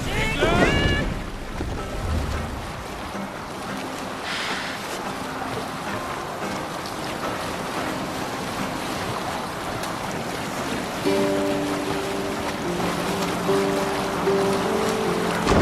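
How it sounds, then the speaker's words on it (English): A Viking longship sailing over waves in Assassin's Creed Valhalla: a steady wash of water and wind around the hull, loud and continuous, with shouted voices and faint game music over it. "Sail down! Enemy camp, Eivor! Let the sail out"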